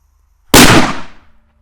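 An old Exploder 4 firecracker goes off in one sharp, loud bang after brief quiet, followed by a fast-decaying crackling tail.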